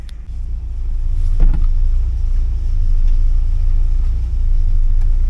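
A 1979 Porsche 924 engine idling around 700 to 800 rpm while cold, a steady low rumble held close and loud with no talk, a small bump in the middle.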